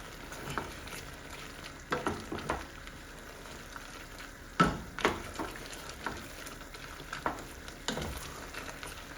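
A pot of bisque cooks on the stove, sizzling and bubbling steadily up close while a spoon stirs it in scattered scrapes and knocks against the pot.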